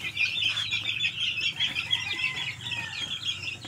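Boston White chickens crossed with SBR cluck and chirp continuously at close range, with overlapping calls and light rustling and no talk.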